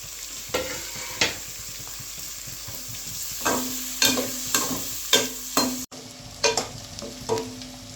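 Onions frying in a pan for bhindi pyaz sabzi, a constant close sizzle broken by regular scraping and knocking strokes from a spatula, with a brief cut partway through.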